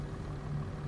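A tractor engine idles in Farming Simulator 25 with a low, steady rumble and a faint hum on top, one unbroken sound with no talk over it.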